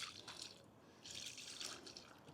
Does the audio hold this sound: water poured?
yes